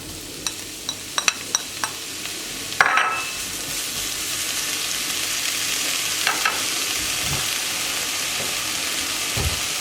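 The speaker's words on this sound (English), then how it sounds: "now we're putting in all the chanterelles" Chanterelle mushrooms dropped into a hot pan with onion, sizzling steadily with scattered clicks and scrapes of stirring, a louder burst of hissing around the three-second mark, close and continuous.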